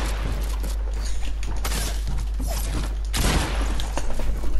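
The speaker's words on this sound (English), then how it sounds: "I'm trying to get above you and shoot you and kill you." Rapid gunfire bursts in the video game Fortnite, a dense, loud clatter of shots and impacts running continuously with a sharper surge of fire near the end.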